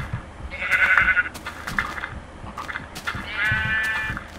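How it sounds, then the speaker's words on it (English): Two bleats from a black sheep in Minecraft, each a wavering call lasting nearly a second, spaced a couple of seconds apart, clear and close above quiet game ambience and soft footstep-like thumps. "Come here, black sheep."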